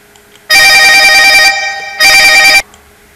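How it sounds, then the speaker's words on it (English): A telephone rings loudly and close by in two electronic bursts, the first about a second long and the second shorter, separated by a brief gap with no talk. "The phone was calling."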